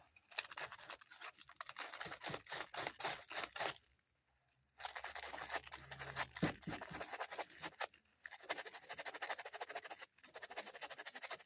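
100-grit sandpaper scrubs denim jeans in quick, rasping back-and-forth strokes, close and crisp, with a short pause partway through before the rapid scratching resumes.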